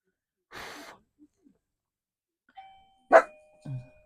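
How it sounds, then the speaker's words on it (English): In a quiet room, a doorbell chimes once with ringing tones, framed by brief breathy sounds and a short low bark-like noise. "that's the doorbell, but they can just wait"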